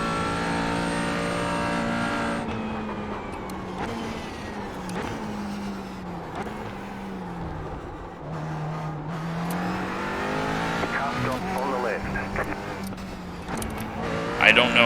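A GT4 race car engine in iRacing on the Iowa Speedway roval, droning steadily with rising and falling pitch through shifts and throttle lifts, loud and close, with someone talking over it.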